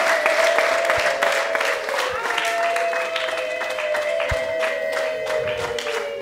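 A large wedding crowd applauds steadily throughout, the clapping carrying under a voice that talks and sings over a loudspeaker.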